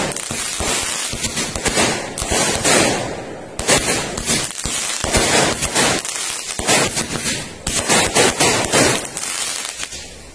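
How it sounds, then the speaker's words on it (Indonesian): Super jumbo Roman Candle firecrackers fire in a rapid string of loud, sharp cracking bursts, with a brief gap partway through before the barrage resumes. "itu dia tadi hasilnya mercon Roman Candle-nya yang super jumbo"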